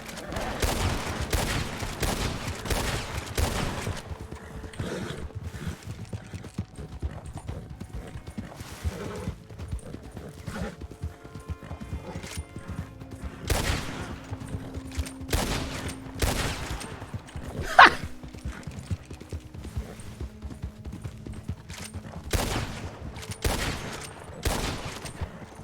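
Bursts of gunfire crack in the RedM game, volleys of rapid shots cluster early and again mid-clip, mixed with hoofbeats and a horse's whinny in an outdoor game scene.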